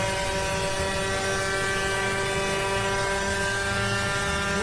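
A two-stroke motorcycle engine revs hard at sustained high RPM, a loud, steady buzzing drone with strong harmonics and no break, close up.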